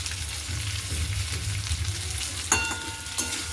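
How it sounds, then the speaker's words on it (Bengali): Food with new potatoes sizzles and crackles steadily in a hot pan, with a couple of stirring scrapes and clinks near the end. "তো এটা আস্তে আস্তে ভাজা হোক"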